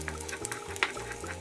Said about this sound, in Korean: 밥을 한쪽으로 밀고 계란물을 넣어 스크램블을 만들어주세요